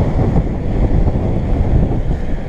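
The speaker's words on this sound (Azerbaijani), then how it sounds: "Külək var, külək vurur üzümüzə" Wind blowing hard on an open island bridge, a loud, close, gusty rumble of microphone buffeting that pulses unevenly throughout, with no voices.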